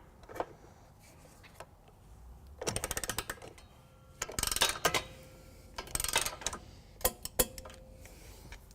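A torque wrench with a 15mm socket and extension tightens a trailer hitch bolt on a 2016 Mini Cooper Countryman, giving a series of sharp close ratcheting clicks in short bursts with pauses between.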